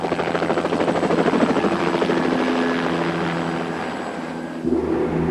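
A rescue helicopter lifts off for mountain cliff-rescue training, its rotor thumping and turbine whining loud and close throughout, then shifting in pitch near the end as it climbs away.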